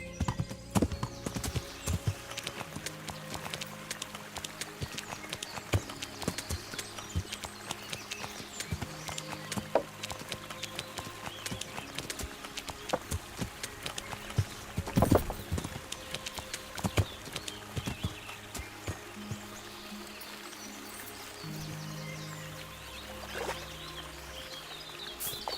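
Horse hooves clip-clop steadily in Kingdom Come: Deliverance, a continuous rhythmic stream of hoofbeats at moderate distance over a low humming background with occasional tonal notes, no talking.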